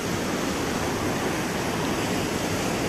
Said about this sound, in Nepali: यहाँ खोला वाइल्ड देखिरह।